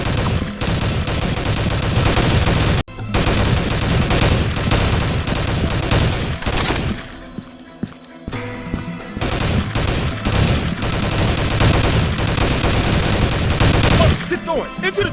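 Dense gunfire fills a jungle firefight in the PC shooter Soldier of Fortune II: Double Helix, with rapid automatic bursts and sniper shots, loud and nearly continuous, broken by a brief lull in the middle.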